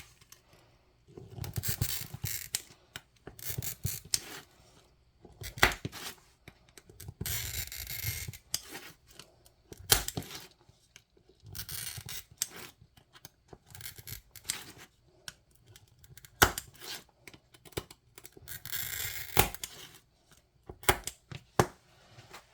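Glass being scored and cut for fused glass ghost shapes, a series of short scratchy scoring strokes and sharp snaps in irregular bursts with quiet gaps between, close up and without talk.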